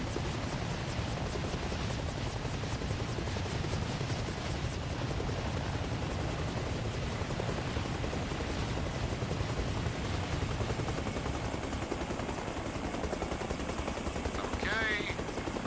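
A helicopter in the video game ARMA: Reforger gives off a continuous loud rotor and engine drone, a dense thrumming wash that runs unbroken throughout.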